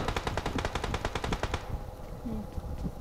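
Rapid automatic gunfire from a mobile battle-royale video game crackles in a fast, evenly spaced burst of about a dozen shots, then cuts off abruptly, leaving quieter background game noise.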